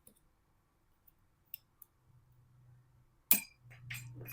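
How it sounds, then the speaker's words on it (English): Small metal shields pried off a Nintendo Switch 2 circuit board give a few faint isolated ticks, then a sharp close snap and a brief rattling clink as a shield pops free, over a low background hum. "Let's see if some of these shields they will pop off."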